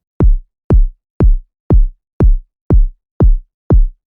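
A synthesized kick drum run through the KSHMR Essentials Kick plugin strikes eight times in a steady pulse, each hit a punchy attack falling into a deep, rounded low-end thump, loud and dry with gaps between.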